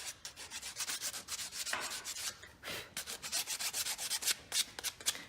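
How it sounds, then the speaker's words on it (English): Sandpaper rubbing across WoodUBend moulding, a close, rhythmic series of short scratchy strokes, each a brief rasping swish, repeated quickly and unevenly, with no voices. "this just shows you how easy you can sand it, just like wood"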